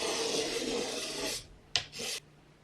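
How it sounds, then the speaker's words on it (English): Rubbery adhesive being scraped off a speaker spacer during a speaker overhaul: a long, close rasping scrape, then two short quick scrapes. "So I'm not just scraping away the spacer."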